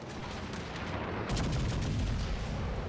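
Secondary guns of the battleship Massachusetts firing in World of Warships Legends: a dense barrage of booming naval gunfire in rapid overlapping shots, loud and continuous, swelling heavier partway through.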